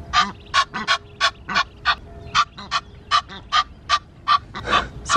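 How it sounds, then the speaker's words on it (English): Ducks at a pond give a steady run of loud, close honking quacks, one call after another in a quick, fairly even rhythm, with no talking over them. "They're all ducks."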